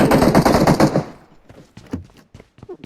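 A fast burst of automatic gunfire rattles in PUBG on the Erangel map, loud and close for about a second, followed by a few scattered distant shots and faint game noise.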